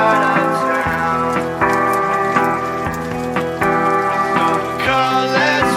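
Steady rain falls throughout beneath a loud song playing at full volume, the patter spread evenly and partly masked by the music.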